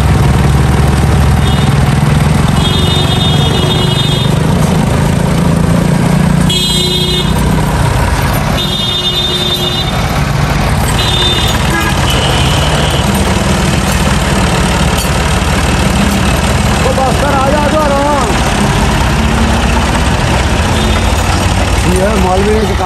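A Massey Ferguson 260 tractor engine runs steadily throughout, a loud low rumble that stays constant, with people talking over it at times.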